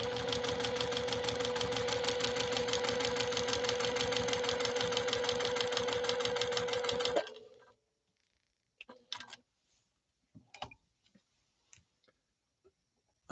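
Juki TL 2020 PE sewing machine running at steady high speed with a fast, even mechanical rattle for about seven seconds, then stopping, followed by a few scattered clicks and taps.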